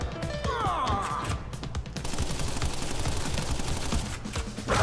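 Thompson gun firing in the video game Crash Bandicoot N. Sane Trilogy, a steady rapid burst of automatic gunfire and crashing impacts running nearly the whole time, loud and continuous amid game effects.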